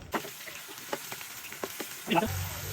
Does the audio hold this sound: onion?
yes